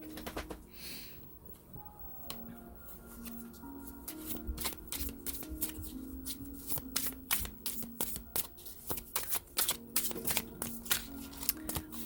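Tarot cards being shuffled up close during a card reading, a long run of crisp riffling flicks and slaps that grows denser and louder, with no talk.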